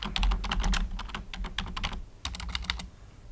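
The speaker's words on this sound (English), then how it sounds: "And I'm going to type in," Typing on a computer keyboard while titling in video editing software, a close run of quick, irregular key clicks in bursts with a short pause midway, quiet and without speech.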